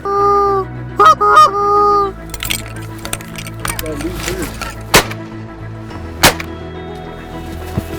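Two sharp, loud gunshots crack a couple of seconds apart during a hunt in Alberta, mixed with honking geese calls and people talking.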